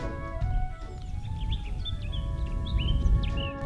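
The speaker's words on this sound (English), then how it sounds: "The only sound you can hear is the sound of birds." On a quiet, deserted Swedish island, birds sing and chirp with short, high, clear whistles and trills scattered across a few seconds. A soft low rumble of wind or background sits beneath them.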